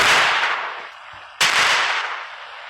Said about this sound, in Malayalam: മരത്തിൽ വെടിവെച്ച് നോക്കാം, നമുക്ക് വെടിവെച്ച് നോക്കട്ടെ.